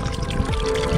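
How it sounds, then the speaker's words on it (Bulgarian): Water gushes strongly from a mountain drinking fountain on a Vitosha trail, a steady, close splashing pour with no voices. "И първата чешма по пътя. Доста буйно тече."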